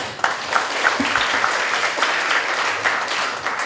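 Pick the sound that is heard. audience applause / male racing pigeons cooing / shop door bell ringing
audience applause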